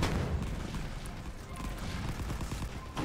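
WW1 artillery barrage in the Rising Front video game: dense, rumbling booms and crackling gunfire rolling continuously, loud and close, with a sharper blast near the end.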